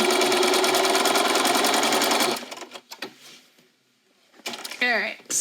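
A sewing machine stitches a fabric gift tag in a loud, fast, continuous whirring run that stops after about two seconds, followed by quieter handling noises and a voice near the end.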